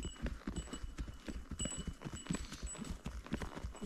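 Horse hooves clip-clopping on a trail during a horseback ride near Rara in Nepal, a steady rhythm of close hoof strikes with soft rustling between them and no clear talk.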